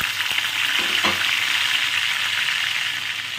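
Spice paste with cumin goes into hot oil in a pan for kali paneer, giving a steady, close, dense sizzle with a few soft stirring knocks near the start.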